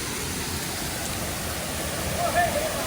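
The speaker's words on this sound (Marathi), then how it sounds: "हा धबधबा अतिशय सुंदर धबधबा आहे" A waterfall in dense woodland near Malgund sends up a constant broad rushing roar that fills the background evenly, with no distinct breaks.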